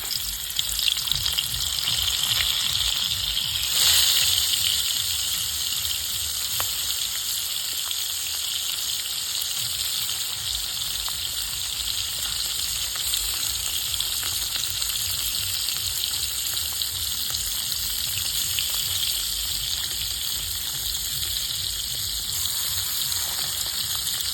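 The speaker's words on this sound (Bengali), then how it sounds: "তেলটা গরম হয়ে গেছে গা মশলা মাখানো মাছটা দিয়ে দেয়" Spiced river fish sizzles steadily in hot oil in a village kitchen, a dense, continuous frying hiss with a brief louder crackle early on and occasional faint stirring, no voices.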